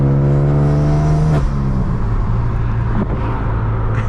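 A manual BMW M3 F80 engine drones loudly from inside the car while driving, a steady harmonic growl that drops in pitch as the revs fall and then holds a lower, even hum.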